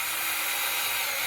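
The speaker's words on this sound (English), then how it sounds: "Just drilling a couple of pilots." A power drill bores a couple of pilot holes while a pop-up vampire coffin prop is being built, giving a steady, close, hissing grind that holds for about a second without any voices.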